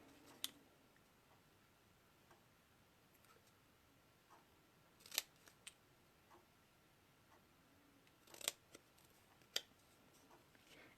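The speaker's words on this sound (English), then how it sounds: "Now I'm just going to snip the end of this to make a little flag." Scissors snip the end of a ribbon into a flag shape, a few faint, crisp, close cutting clicks scattered over a quiet background.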